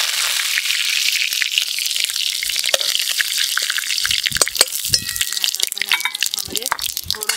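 Curry leaves crackle and spit in hot oil already holding cumin and mustard seeds, a steady sizzle broken by sharp pops and spatters that grow denser toward the end, with no talking.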